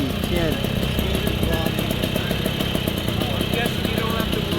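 Small Fend Flitzer microcar engine running nearby, a rapid rattling putter with fast regular pulses, steady and loud, with someone talking over it.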